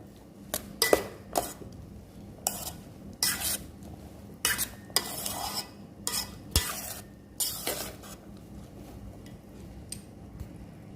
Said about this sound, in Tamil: சேர்த்துட்டு இதை நல்லா மிக்ஸ் பண்ணி விடலாம்